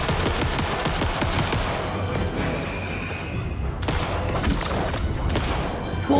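Rapid hip-fired gunfire in the video game Alan Wake 2, a loud, dense stream of shots with a heavy boom partway through, over constant combat noise.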